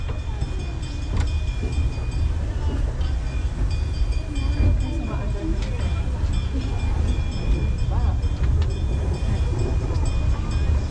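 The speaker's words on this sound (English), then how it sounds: "So with a steam locomotive it doesn't have the same acceleration as a diesel" Riding in an open carriage behind the Puffing Billy steam locomotive as it departs Belgrave station, a constant loud rumble of wheels and running gear fills the scene while people talk over it.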